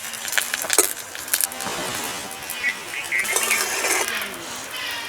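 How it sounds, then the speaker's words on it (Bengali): A lid comes off a cooking pan, giving several metallic clinks and light rattles over a low background hiss of cooking. "এবার ঢাকনাটা খুলে দেখি ভেতরের অবস্থাটা।"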